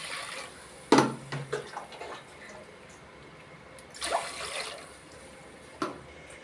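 Water is poured onto roasted semolina (rava) in a cooking pot, giving quiet, close splashes and trickles in a few short bursts over a soft background hush, with no talking.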